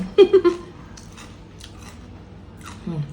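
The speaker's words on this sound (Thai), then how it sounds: "เสียงกรอบมาก แต่ก็ทอดกรอบเกิน" Crunchy bites into over-fried fish skin, three quick crisp crunches close up followed by quieter chewing and a final faint bite.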